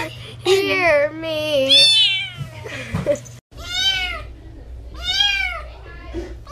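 A pet cat meows repeatedly in a home, several drawn-out, rising and falling calls with short breaks between them, loud and close, alternating with quieter bits of a person's voice.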